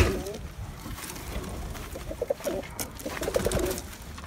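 Several pigeons cooing in a coop, soft repeated low coos close by with some rustling and a faint voice in the background.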